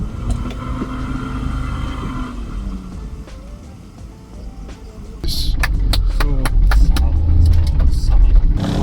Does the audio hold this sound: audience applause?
no